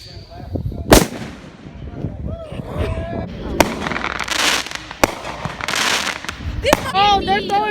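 Artillery shell fireworks at a Fourth of July celebration: several sharp, loud booms and crackling bursts, some near and some farther off, with people talking and shouting between the blasts.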